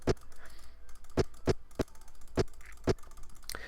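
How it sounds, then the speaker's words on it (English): Sharp mouse clicks while playing Minecraft come in an uneven rapid series of about eight distinct taps over quiet background hiss. "Let's quickly rapid fire clicking again."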